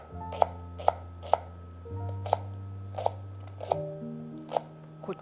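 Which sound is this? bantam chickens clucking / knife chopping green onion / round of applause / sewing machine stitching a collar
knife chopping green onion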